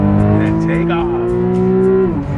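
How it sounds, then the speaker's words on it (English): A 2012 Porsche 911 Carrera S doing a launch-control start: a loud, close engine holds a high, steady revving note that climbs slightly, then drops off sharply at the end. "So we're going to demonstrate launch control."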